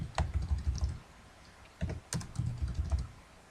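Computer keyboard keys clatter in two bursts of rapid typing, close and fairly quiet, with a short pause between them during a Minecraft session.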